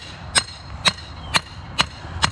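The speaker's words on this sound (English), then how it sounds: "gonna try out the new hammer today. Pulled the trigger on the M1 Martinez" Sharp metallic strikes from a lightweight Martinez M1 hammer ring out five times at an even, unhurried pace, each a crisp isolated hit above a low background rumble.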